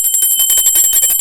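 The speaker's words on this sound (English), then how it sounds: "Post notification bell, blue bell, the ringer." A rapid, bright bell ringing in a quick run of repeated strikes, like a notification bell sound effect, loud and alone for about a second.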